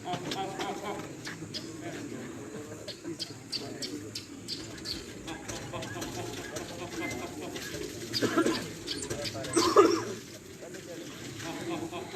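Soft cooing of pigeons perched on a rooftop in Sarai Alamgir, faint and intermittent beneath someone talking steadily, with a few louder flutters near the end.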